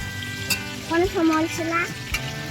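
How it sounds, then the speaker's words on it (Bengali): Chicken and potato pieces fry in a home kitchen pan, a steady sizzle running under a voice speaking over it, with a couple of brief knocks of stirring. "এই যে চিকেন, আলু ভাজা চলছে"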